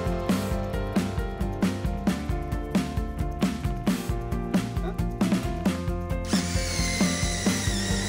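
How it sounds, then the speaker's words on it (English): A power drill whirs in repeated short bursts, driving self-tapping metal screws into PVC gate hinges, loud and close with a steady pulsing rhythm and a higher whine at the end. "Self-tapping metal screws are used to penetrate and secure the hinges."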